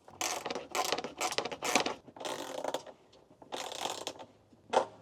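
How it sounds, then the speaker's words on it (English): A screwdriver and number 10 socket tighten bolts on a slimline rear door table for a Mitsubishi Pajero NM/NP, giving close, quick bursts of ratcheting clicks in irregular runs with short pauses between. "keep your screwdriver on this side, your number 10 socket on the other, and then just tighten it up."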